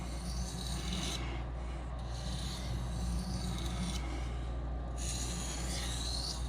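A knife blade being hand-sharpened on a stone to take off the burr, a steady close rasping rub with a few strokes and short pauses over a constant low background hum.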